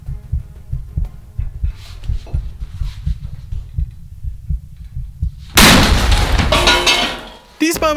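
A sudden, loud explosive blast bursts in after a stretch of low rumbling and thumping, then roars and fades before a sharp crack at the end, from a giant bucket filled with popcorn.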